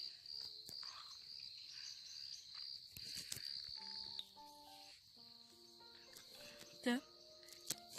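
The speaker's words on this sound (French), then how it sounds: "il y a le mélange des grillons et le mélange des oiseaux" Crickets chirp in the countryside, steady high trilling that runs throughout, while scattered bird calls and brief whistles appear in the second half and a few faint clicks and knocks cut in.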